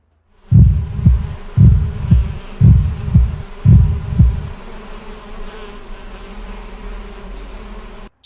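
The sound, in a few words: heartbeat sound effect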